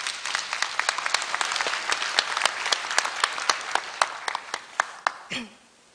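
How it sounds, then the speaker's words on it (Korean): A crowd at a university graduation ceremony claps steadily in a dense, even wash that tapers into sparse separate claps before stopping abruptly. "큰 박수로 맞이해 주십시오"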